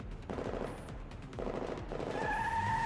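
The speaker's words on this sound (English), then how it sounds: "hears intense gunfire, along with a sudden roar of revving engines" Rapid bursts of gunfire crackle repeatedly while engines roar and rev, rising in pitch toward the end; distant and fairly faint.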